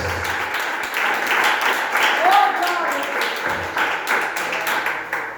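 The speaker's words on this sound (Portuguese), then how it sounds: "Palmas para o Senhor Jesus, aleluia, glória a Deus." A church congregation claps in praise, a steady round of many hands filling the sanctuary, with voices speaking and calling out over the applause.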